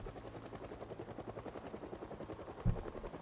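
Helicopter in the zombie survival game Project Zomboid, its rotor a steady rhythmic chop that holds throughout, with a single heavier thump near the end.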